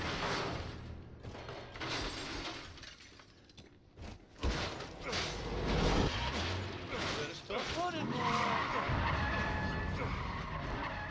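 Tires skid and screech as a car is driven wildly in Resident Evil 7, loud and close, with crashing and shattering bursts and someone shouting over the noise.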